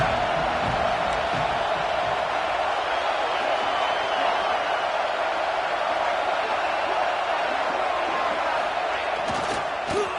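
Large stadium crowd at an Ohio State college football game sustains a loud, steady roar of cheering and noise, continuous and dense throughout with no break.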